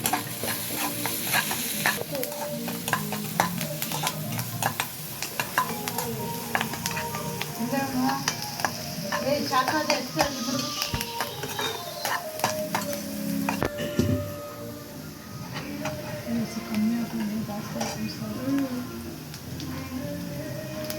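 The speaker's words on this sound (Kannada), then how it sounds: "ಈಗ ಆನಿಯನ್ ಫ್ರೈ ಆಗಿದೆ" Onions with a pinch of salt fry in a pan, giving a continuous close sizzle with scraping stir strokes and faint utensil clinks, briefly quieter near the end.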